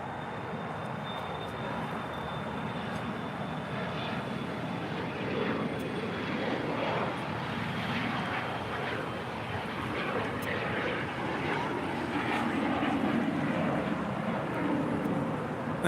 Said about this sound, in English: That departure on 7 left is FlexJet 564 departing to Phoenix on a Bombardier Challenger 350